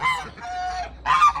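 Geese in a homestead goose run with a small dug pond give a few nearby nasal honks in quick succession, alone and moderately loud.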